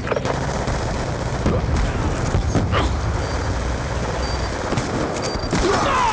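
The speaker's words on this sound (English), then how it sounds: "Hellstorm missile inbound. Frag out! Grenade!" Loud, dense Black Ops 2 video game combat: a Hellstorm missile and frag grenade explosions burst amid nearly continuous gunfire, with faint voices in the mix.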